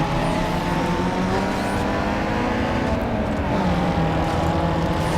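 Toyota Corolla racing in Need for Speed Underground 2, a loud continuous engine drone with shifting revs and tyre noise, steady throughout.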